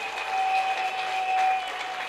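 A church congregation applauds for the Lord during a service, a dense, steady wash of clapping hands that holds throughout, with a faint sustained tone running underneath.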